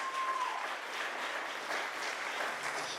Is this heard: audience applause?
yes